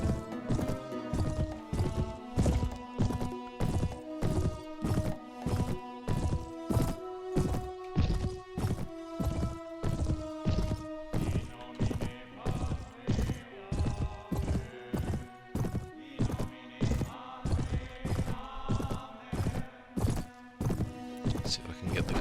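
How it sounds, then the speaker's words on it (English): Steady, regular clip-clop of horse hooves in the medieval strategy game Anno Domini 1257, loud and continuous with a rhythmic beat, backed by music and game effects. "See if I can get the guy on the horse."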